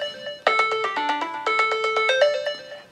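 A smartphone ringtone triggered by an Alexa key-finder request plays a bright, repeating melodic chime pattern, loud and clear with no voices.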